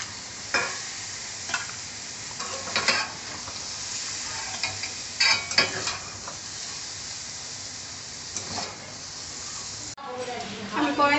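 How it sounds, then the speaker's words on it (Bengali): Paneer cubes fry in hot oil in a pan, giving a continuous loud sizzle with bursts of crackling and stirring scrapes, and a sharp break near the end as the pieces are moved. "তেলটা গরম হয়ে গেছে, এবার পনিরগুলো আমি ভেজে নিচ্ছি"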